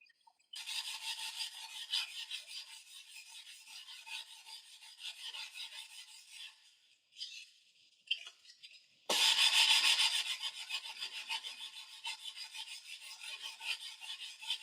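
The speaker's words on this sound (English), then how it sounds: "I'm going to sand directly over my neck rest." Sanding a guitar fingerboard by hand, the neck resting on a neck rest in a luthier's shop: steady, close rasping strokes run continuously, break off briefly near the middle, then resume louder and keep going.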